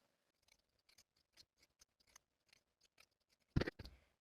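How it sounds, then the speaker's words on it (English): Pinking shears trimming a fabric seam and clipping curves, a series of light, crisp snips spaced about every half second, close and quiet, ending in a louder cluster of cuts and fabric handling. "I'm going to use pinking shears to do both."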